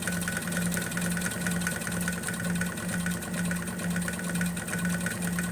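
A sewing machine stitches a filled zigzag, its motor giving a steady, evenly pulsing whir with regular rhythmic beats from the needle running continuously and close by.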